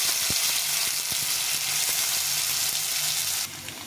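Potatoes frying in hot oil with nigella seeds and green chillies, a steady close sizzle with a few soft stirring knocks, no voices.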